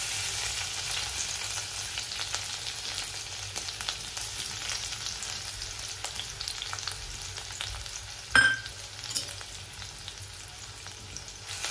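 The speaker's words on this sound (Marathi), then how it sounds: "त्यात आपण मी ठेचून घेतले लसूण आणि मिरची ते आपण ह्यात घालूया." Crushed garlic and green chilies dropped into about two spoons of hot oil for methi bhaji, giving a steady close sizzle with a brief sharp clatter of stirring partway through and no talking.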